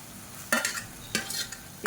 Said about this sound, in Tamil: இதையும் சேர்த்து வதக்கி விட்டுக்கலாம்.